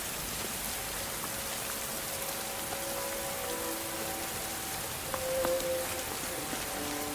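Steady rain falls heavily and evenly throughout, a dense hiss of drops with a few faint tonal notes and a brief swell near the end.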